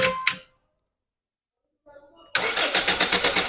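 A Toyota Corolla with a no-cranking, no-start fault catches when the starter is released and fires into a steady, close idle with a pulsing rhythm after a brief silence.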